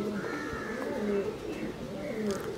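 Racing pigeons coo in soft, repeated throaty phrases close by in a loft, while someone speaks over them.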